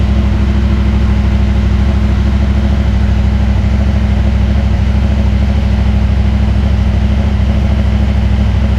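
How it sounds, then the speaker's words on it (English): A 2023 CFMoto 800MT Explore motorcycle with a newly fitted mid pipe idles steadily while warming up, a loud, close, continuous engine drone with an even pulsing rhythm and no other sounds. "bike's running up to temperature"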